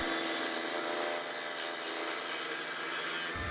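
A sharp Robert Sorby bowl gouge cuts a spalted sweetgum bowl spinning on a lathe, giving a steady, loud, continuous scraping hiss that holds unbroken for several seconds before dropping away at the very end.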